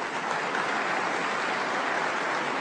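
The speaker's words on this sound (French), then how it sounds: "Vous pouvez applaudir aussi, mesdames et messieurs" A steady, dense roar of crowd applause fills a political speech hall, continuous and even, with no single claps standing out.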